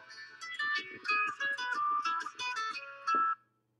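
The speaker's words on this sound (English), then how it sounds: "I have to cancel that phone." A phone rings with a bright electronic melodic tone, a run of quick beeping notes repeating for about three seconds before stopping into silence.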